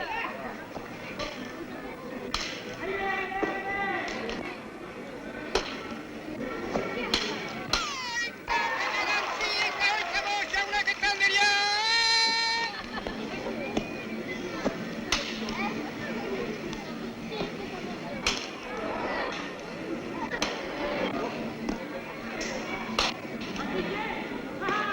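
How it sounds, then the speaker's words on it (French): Pelota ball struck back and forth at a fronton during a match, sharp intermittent whip-like cracks of the ball rising over crowd chatter and a voiceover. "Comme ici, au fronton, on se renvoie la balle."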